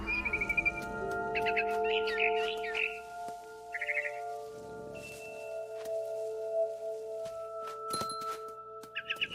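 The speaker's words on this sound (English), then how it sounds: "Then I heard chirping outside my window. It was a barn swallow going back to her nest." A barn swallow near a house window in What Remains of Edith Finch gives short bursts of bright chirps in scattered clusters, fairly faint over a steady low ambient hum with occasional soft thuds.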